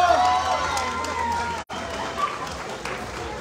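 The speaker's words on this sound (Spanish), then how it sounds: "así que ¡aplausos para" A crowd claps and cheers for a runner finishing an ultra trail race in Mexico, steady outdoor applause mixed with voices and an announcer talking over it, briefly cut out midway.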